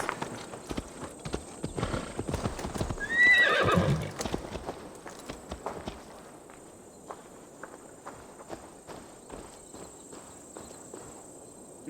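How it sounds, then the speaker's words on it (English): Several horses in the game Assassin's Creed Valhalla clatter with steady clip-clop hoofbeats, and a sharp whinny rises above them early on before the hooves settle into quieter, continuous trotting. "I called all the horses"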